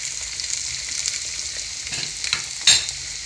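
Breaded chicken breast fillets fry in oil over high heat, giving a steady close sizzle with a few scraping stirs and one brief sharp crackle near the end.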